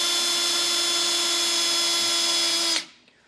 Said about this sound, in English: I'll take my self-tapping screw, drill straight up